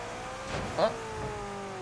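Car engine revving during a McLaren chase in PUBG, a steady mid-loud motor drone with a brief swell near the middle, heard alone.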